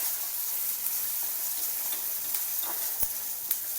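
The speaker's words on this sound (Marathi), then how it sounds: "कापलेला कांदा चांगलं भाजून घ्यायचं याला तेलामध्ये." Chopped onion fries in oil for poha with a faint, even sizzle, close but quiet, punctuated by a few light ticks and one sharper tap of a spoon against the pan.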